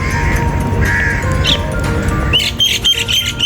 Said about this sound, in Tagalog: Nalalapitan natin yung mga ibon, no.